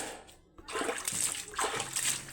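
Mud-caked sandals being washed in a shallow farm water flow, a few close splashes and sloshes in short bursts, with a brief quiet gap before them.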